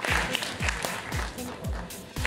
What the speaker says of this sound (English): Big round of applause for Nicholas.